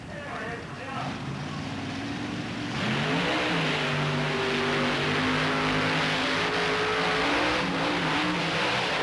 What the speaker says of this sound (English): he's got some massive acceleration in this truck